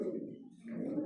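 Domestic pigeons kept in a loft coo steadily during feeding, a soft, continuous low warbling from several birds close by.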